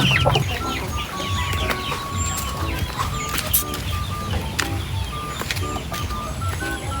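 Chickens clucking and chattering in a busy farmyard, with scattered calls and some wing flaps over constant background noise.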